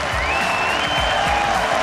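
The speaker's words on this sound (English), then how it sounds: "The crowd going absolutely nuts." A large esports crowd at an All-Stars event in Barcelona roars continuously with applause and cheering, with a faint whistle rising over the dense, steady noise.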